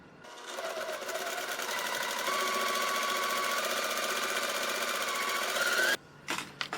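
Sewing machine stitching straight along a marked line on a quilt sampler block, a loud, steady, high-speed whirring hum that runs continuously for several seconds, then stops abruptly, followed by a few small clicks.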